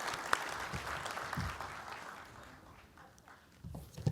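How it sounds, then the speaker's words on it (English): Round of applause from a community coffee gathering about clean lakes, scattered clapping that swells and thins, somewhat distant, with a few louder nearby claps at the end. "Round of applause for my 3 and 4."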